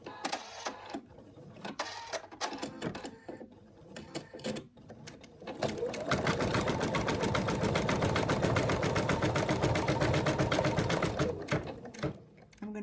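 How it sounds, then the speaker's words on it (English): An embroidery machine stitches the arm onto a stuffed monkey toy. After a few seconds of quieter handling noises, a loud, steady, rapid mechanical chatter begins and runs continuously near the microphone until close to the end. "now we're ready to stitch it down."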